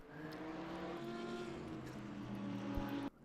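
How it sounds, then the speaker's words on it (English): A race-tuned Audi engine in a racing video game, held at a steady loud drone with layered harmonic tones that shift slightly in pitch, then cut off abruptly near the end. "Let's get some nice engine sounds from that nice Audi."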